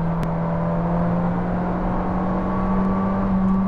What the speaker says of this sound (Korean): RPM을 높이고